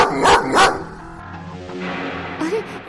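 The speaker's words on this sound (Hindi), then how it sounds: "अरे ये कुत्ता तो मेरे पीछे ही पड़ गया।" A dog barks twice in quick, loud bursts at night on a road, trailing off into quieter whimpering and background noise.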